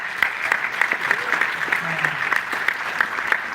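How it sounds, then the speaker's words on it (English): An audience at a talk on Black art and activism claps in a steady, even rhythm, as if clapping along, with the beats close and fairly loud. "Yeah, you're clapping up there."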